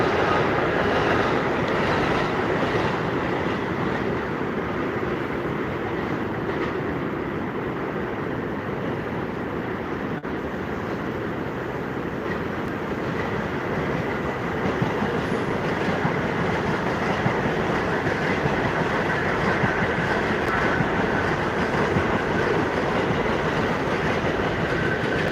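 A New York City subway train in Washington Heights comes out of a tunnel heading toward a bridge, a loud sustained roar and rumble of wheels on rails with steady clickety-clack throughout, no talk.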